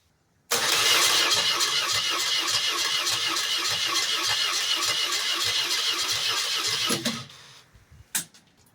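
A $500 Paris Dakar BMW R80 motorcycle cranking on a cold day with the choke on, a loud, steady, churning roar for about six seconds that cuts off abruptly, then a short sharp burst and quiet.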